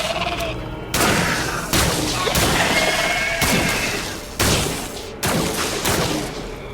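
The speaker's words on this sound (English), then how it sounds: "I was firing a bit quickly there." Gunfire in the video game Scars Above: a string of sharp, loud shots at an irregular pace, each with a short echoing tail, spread across the whole stretch.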